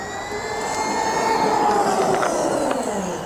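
An RC truck in first gear runs continuously at steady volume, its whining motor and drivetrain holding a sustained buzzing tone with a few faint rattles over roughly three seconds, no voices.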